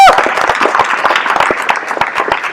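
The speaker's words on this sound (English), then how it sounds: "Please give them a round of applause." Conference audience in a large hall giving a round of applause for exhibitors, loud close clapping with distinct sharp individual claps over a fuller crowd wash, fading slightly toward the end.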